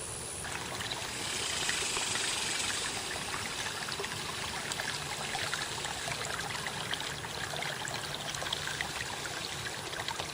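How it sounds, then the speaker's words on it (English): A creek at the entrance to a wood runs steadily, a close, continuous wash of trickling and splashing water with no talk over it. "Running water here at the entrance to the wood."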